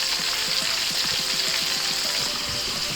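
Chicken thighs fry in a pan of hot oil, a dense steady sizzle and crackle close up, with no talking.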